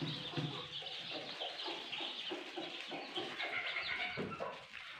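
Newly hatched Rhode Island Red chicks peeping, a dense, continuous chorus of high chirps from many birds, fairly faint and steady throughout.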